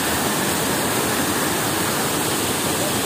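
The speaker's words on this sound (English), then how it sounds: "See how the water is falling over here." The Bandlaguda Jagir waterfall in Hyderabad gives a steady, loud, close rushing roar of falling water that continues without a break.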